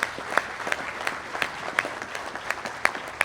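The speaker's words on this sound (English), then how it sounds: "Round of applause for that." An audience at an IGNYT success-stories event in Trinidad applauds with scattered, uneven claps, moderately distant and fairly quiet, with no speech over it.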